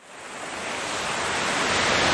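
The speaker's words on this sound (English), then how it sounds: "Gorgeous waterfall, and there's plenty of water running across it at the moment." Splitters Falls pours with plenty of water running over it, a dense broadband rushing roar that swells steadily louder, close and continuous with no voices.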